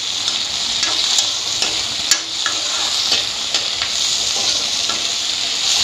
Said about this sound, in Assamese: কুন্দুলিবিলাক এনেকৈ ভাজি থাকিম পিঁয়াজৰ লগত।